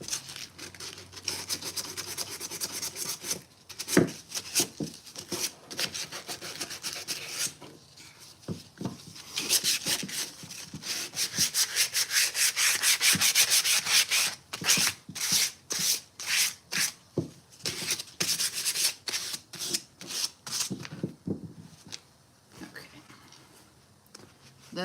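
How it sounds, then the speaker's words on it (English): Sanding a painted furniture surface by hand to expose green paint beneath, a continuous rough rubbing and scraping with quick rhythmic back-and-forth strokes, close and fairly loud, with a voice now and then under it. "So I'm just going to come in and smooth out the surface, sand up the pieces, and show us some of that green that's underneath here."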